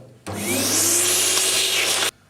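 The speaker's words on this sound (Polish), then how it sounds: "Odkurzaczem do regeneracji czyścimy zbiornik na toner resztkowy." A vacuum cleaner used for toner regeneration cleans the waste toner hopper of an HP 125A/128A/304A or Canon CRG-718 laser cartridge, starting abruptly with a loud steady whine and hum, running about two seconds alone, then cutting off.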